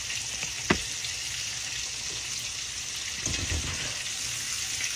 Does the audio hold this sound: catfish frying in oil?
yes